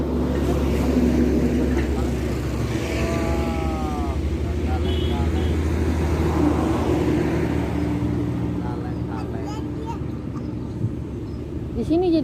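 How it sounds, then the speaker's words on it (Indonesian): Heavy vehicles rumble steadily past on a village road in daytime, a continuous low drone with passing engines, while people talk nearby over the traffic. "Di sini jadi banyak banget mobil gede-gede ya."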